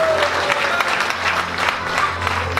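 Clapping from an audience at a Dubai festival of miracles gathering, continuous and dense throughout, with a crowd murmuring and a few voices mixed in.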